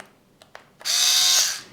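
Parkside PAS 4 D7 cordless 4V screwdriver whirs up near and loud, running steadily for about half a second before winding down, preceded by a couple of faint clicks.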